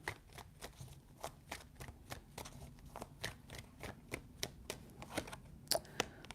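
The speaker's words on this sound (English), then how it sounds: "3 shuffles." Tarot cards are shuffled by hand in a quiet room, a run of soft, quick riffling flicks and taps repeating at a brisk, uneven rhythm, close and faint.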